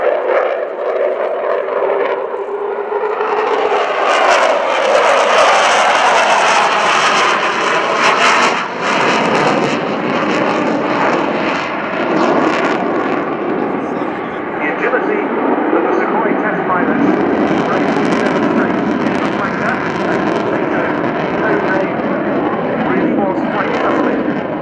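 A Sukhoi Su-27P jet fighter flying a display at an air show, its engines roaring loud and sustained with rising and falling pitch as it manoeuvres overhead, with a voice talking over it.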